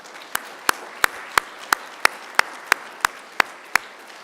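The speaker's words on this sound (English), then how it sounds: "And now I invite you to give them a round of applause." At a Macquarie University graduation ceremony, a single pair of hands claps alone in an even, steady rhythm, about a dozen crisp, well-spaced claps over a quiet hall.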